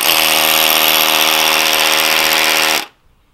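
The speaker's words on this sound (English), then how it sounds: "It has to have some pressure in order to drill." A power drill bores a bolt hole into rock on a cliff for climbing or highline bolts, a loud steady grinding whine that runs without pause for nearly three seconds and then cuts off abruptly.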